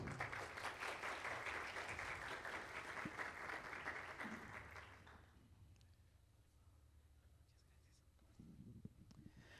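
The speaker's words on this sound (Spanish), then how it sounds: "Démosle por favor con un fuerte aplauso la bienvenida a la profesora Lilian Betancourt" An audience at an accounting alumni reunion claps loudly to welcome a professor to the stage. Dense applause fills the first five seconds, then fades to a quiet room with a faint voice near the end.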